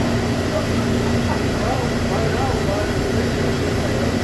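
A Mori Seiki NH-6300DCG II horizontal CNC machining center, new 2011, runs its spindle at 3,000 RPM, a loud constant hum with a steady tone over broadband machine noise, with voices mixed in.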